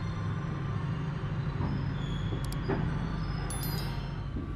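The KA Ranggajati train pulls out of Madiun station with a continuous low rumble of wheels and carriages, faint high metallic squeals and clinks rising briefly above the steady rolling noise.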